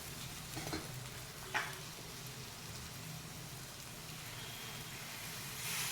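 Okra pieces fry and get stirred in a pan with tamarind juice, giving a steady soft sizzle with occasional scraping stirs, close and fairly quiet.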